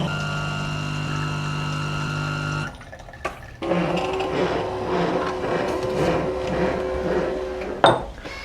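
A coffee machine's milk frother works steadily on milk with a humming, hissing drone, then stops briefly before a gurgling, bubbling froth runs on and ends in a short clatter.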